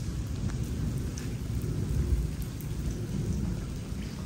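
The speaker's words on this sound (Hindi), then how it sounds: "बारिश शुरू हो गई है" Steady heavy storm rain roars continuously, a dense low rumble that could include distant thunder, with no voices over it.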